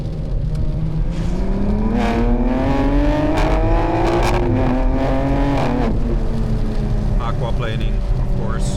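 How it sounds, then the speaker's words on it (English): A BMW M2 with the S58 engine and a performance exhaust accelerates hard on a wet road, its loud engine note climbing steadily through the revs before a gear change, heard from on board with a constant rumble of road noise. "just gives you the best exhaust sound that you can get."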